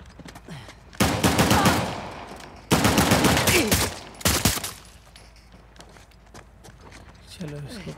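Gunfire crackles in the video game Uncharted: The Lost Legacy, coming as three rapid bursts of shots, two long and one short, with voices speaking during and between them.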